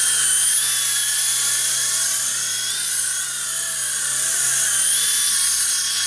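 A small RC helicopter hovers indoors, its whiny high-pitched motor and rotor buzz steady and close, with subtle pitch swoops as it maneuvers.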